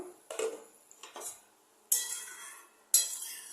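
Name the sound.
lid being taken off a pot of egg curry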